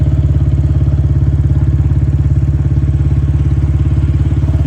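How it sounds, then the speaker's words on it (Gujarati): A Royal Enfield Bullet motorcycle engine idling nearby, a loud, steady low thump with a fast, even pulse that carries throughout without voices. "એટલે આપણે હવે જાશું બુલેટ લઈને"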